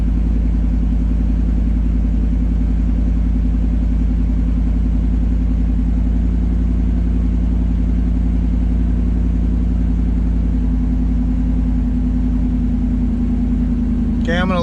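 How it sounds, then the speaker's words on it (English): A 2009 Dodge Ram 1500 with a Hemi V8 idles steadily with a deep, constant low rumble, close and loud throughout, with a brief higher sweep near the end. "I'm going to let that idle down a bit before I turn it off"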